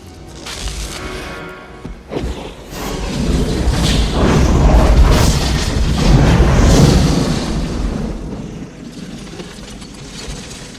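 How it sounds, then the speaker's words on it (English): A huge movie explosion as fire is directed through an opened gas valve: a loud, sustained rumbling roar with deep booming thuds that swells and then slowly fades, no voices. "causing a huge explosion"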